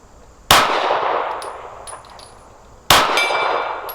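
Pistol bullets from a Smith & Wesson M&P 2.0 Metal Carry Comp striking steel gong targets at 50 yards. Two separate loud, sharp metallic clangs, each ringing out with a long, bright decaying tail.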